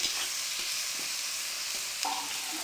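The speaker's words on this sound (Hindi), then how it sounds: "अब 3 से 4 मिनट के लिए इनको अच्छे से भून लें।" Potato and cabbage samosa stuffing fries in a pan, giving a soft, steady sizzle broken by a few scraping stirs of a spoon, with no one speaking.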